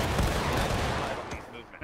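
Musket volley fire in the War of Rights video game, a dense burst of overlapping shots that fades out over a couple of seconds.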